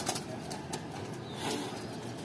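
A racer pigeon makes soft coos and brief wing flaps close by, a few quick flutters and low murmuring calls over a faint room background, with no talking.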